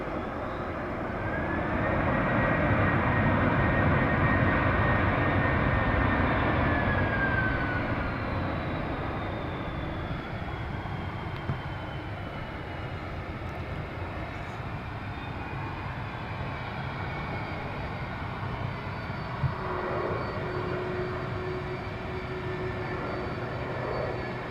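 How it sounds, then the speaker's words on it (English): An Aer Lingus airliner arriving from Denver at Dublin Airport, a distant steady jet rumble that swells and then settles into a long, even drone, with thin whining engine tones sliding across it and no voices. "So this flight's in from Denver, one of the new services that Aer Lingus have started providing."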